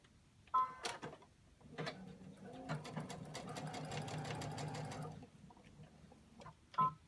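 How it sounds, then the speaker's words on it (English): A sewing machine stitches a scrub hat along a fold line, starting with an automatic back stitch. A few clicks come first, then a rapid mechanical whir runs for about three seconds before stopping, followed by another click in a quiet room. "And my machine automatically does a back stitch when it starts."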